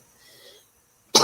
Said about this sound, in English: I've got a bit of a cough this morning.